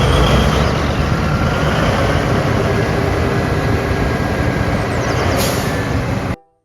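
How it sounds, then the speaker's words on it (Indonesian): Toy mining truck engine: a continuous rough, broadband rumble holding steady for about six seconds before stopping suddenly, with no speech over it. "Kalau yang ini ada mobil truk tambang."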